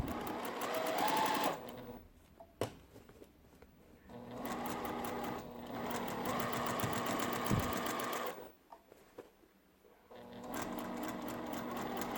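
A sewing machine stitches pieced quilt-top rows together along a quarter-inch seam, running in steady close bursts with short pauses between runs of stitching.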